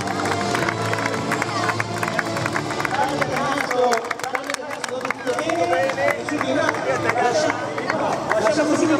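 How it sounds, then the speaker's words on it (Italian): Spectators clap and cheer at the opening of a skating rink in Cremona, with dense applause running throughout amid crowd chatter and a voice talking over it. "E anche l'applauso delle persone che vi stanno guardando"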